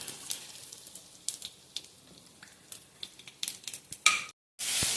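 Asafoetida, mustard seeds and urad dal sizzling in hot oil while making oats upma, with soft crackles and pops and a few louder spatters, ending in a brief dropout and a loud burst of frying hiss.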